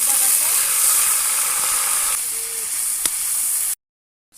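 Onion, garlic and ginger paste sizzles in hot oil in a pan, a loud bright hiss that eases after about two seconds and then cuts off abruptly into silence.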